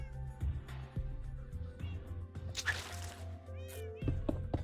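Several cats in Minecraft (Enigmatica 2 Expert) meow repeatedly over a steady mechanical game hum, with a louder drawn-out meow in the middle and more short mews near the end.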